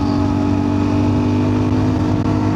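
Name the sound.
motorcycle engine buzzing at high revs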